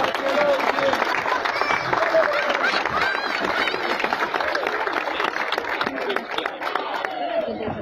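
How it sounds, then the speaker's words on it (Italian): A crowd at an outdoor pilgrimage for a saint claps and murmurs, the applause mixed with chatter and a voice calling out over it, fairly close and loud. "grazie, un applauso a tutti quanti."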